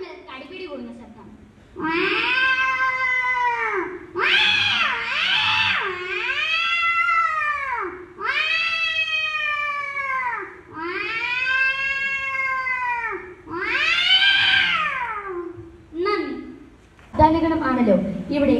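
A mimicry artist on stage uses only their voice to imitate two cats fighting: a series of long, loud, wavering yowls and caterwauls, rising and falling with short breaks between them.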